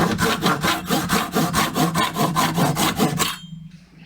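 Rapid back-and-forth strokes of an inexpensive AliExpress hand saw cutting through wood, steady rasping rhythm close up for about three seconds, then stopping abruptly as the cut finishes.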